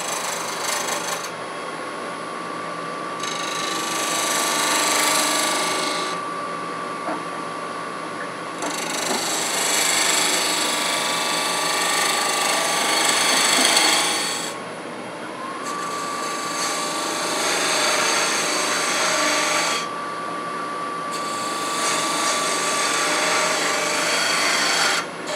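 A wood lathe spins a cherry burl lidded box held in chuck jaws while the bottom is finished, a steady whirring hum broken by repeated bursts of tool cutting and rasping across the wood.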